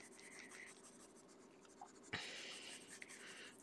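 A pencil pressed firmly onto a colouring page scratches out short strokes while drawing eyelashes, quiet and close, in brief irregular bursts with a sharper scrape partway through.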